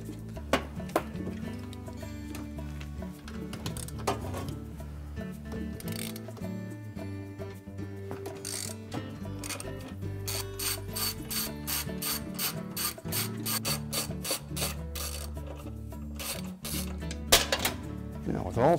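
A ratchet wrench removes bolts from the clutch assembly of a Whirlpool washer, a close, steady train of fast clicking pawl strokes with a few pauses, running throughout.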